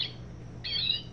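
A plush Audubon common redpoll bird toy plays its recorded call: a short chirp, a pause, then a longer bright trilling twitter, close and clear with no talking.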